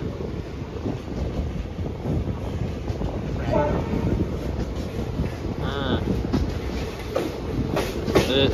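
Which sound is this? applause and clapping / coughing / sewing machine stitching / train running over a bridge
train running over a bridge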